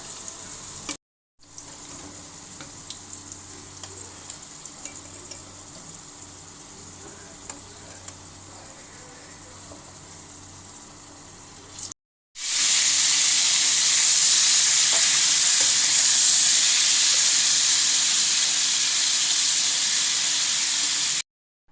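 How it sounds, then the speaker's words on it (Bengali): Potatoes frying in oil for a chicken curry, with a steady, loud sizzle that drops out briefly and then returns much louder and brighter for the rest, with no talking. "আলুগুলো আমার হালকা ভাজা হয়ে গেছে"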